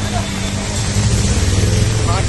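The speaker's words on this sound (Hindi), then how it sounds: "देखो आगे से बाइक" A motorbike engine runs steadily through deep floodwater on Thane's GB Road during heavy rain, a close continuous rumble mixed with rushing water, while someone talks over it.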